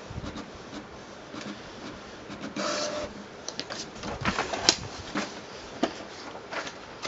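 A Canon Pixma MX870 printer prints graph paper with a steady mechanical whir, plus clicks and paper-feed rattles, all close and fairly loud, with no talking.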